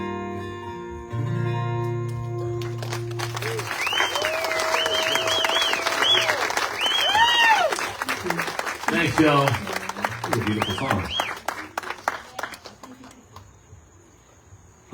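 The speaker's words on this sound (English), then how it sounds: "Let's do another round of applause for these super talented folks on stage." Audience applause rings out at a live after-dark music set, filling most of the clip as a steady wash of clapping and crowd noise beneath a singer's voice and a host talking over it.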